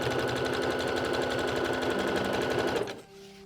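A sewing machine runs fast and steady, stitching stretched elastic onto the edge of jersey fabric. It is loud and close with an even mechanical rattle, then stops abruptly near the end, leaving a low hum.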